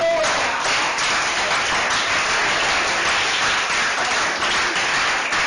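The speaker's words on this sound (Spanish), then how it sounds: "Démosle un aplauso a él." Church congregation applause for a pastor, steady dense clapping throughout at a fairly loud level, with no clear speech over it.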